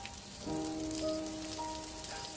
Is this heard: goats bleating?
no